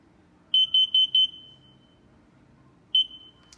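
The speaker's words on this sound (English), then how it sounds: "Fire. Warning, carbon monoxide." Combination smoke and carbon monoxide alarm sounding a rapid burst of four loud, high-pitched beeps, then a single beep after a pause, close by in a quiet room.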